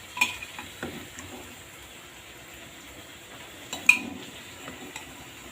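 Boiled cabbage is stirred in a cooking pan with a little water. Soft, quiet scraping is broken by two sharper clinks of a utensil against the pan, with no talking.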